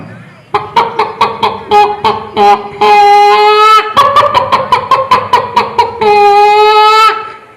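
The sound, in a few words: mimicry of a hen laying an egg, voice imitation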